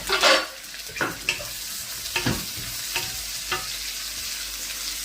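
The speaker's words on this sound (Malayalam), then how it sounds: "നമ്മൾ മാറ്റി വെച്ചേക്കണ ചെറിയുള്ളി സവാളയും മുളകും കൂടി കൂടി ഒരുമിച്ചായിട്ട് കൊടുക്കണം പിന്നെ അത് നമ്മൾ നൈസായിട്ട് ഇളക്കി കൊടുക്കണം" Shallots, onion and chillies sizzle as they are stirred in a pan for a beef fry. A steady hiss runs under several distinct scraping strokes of the spoon, close and fairly loud.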